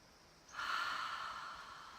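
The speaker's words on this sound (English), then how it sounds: "Let's take another deep breath." A single slow, deep inhalation taken close to the microphone, an airy breathy rush that starts abruptly and holds for about a second and a half before fading, with no words spoken.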